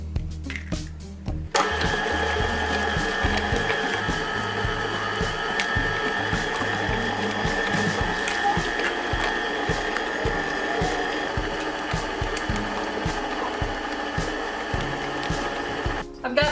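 An electric mixer beats eggs into creamed cake batter, starting with a short burst, then running as a steady, close mechanical whir with a rhythmic rattling chatter throughout.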